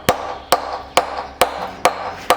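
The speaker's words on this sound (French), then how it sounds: "C'est le bruit de l'outil quand on taille dans une pierre" Stonemason's tool striking and cutting into stone, six sharp, evenly spaced blows about half a second apart, each a bright crack with a short ringing decay, close and loud with no talk.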